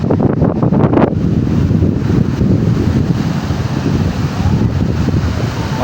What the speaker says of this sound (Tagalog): malakas pa rin ang hangin